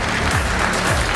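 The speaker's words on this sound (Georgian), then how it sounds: "გთხოვთ აპლოდისმენტებით დავასაჩუქროთ ეს ორი ახალგაზრდა" Audience applause after a youth boxing bout in a ring, a steady dense clapping wash filling the whole short moment with no voices over it.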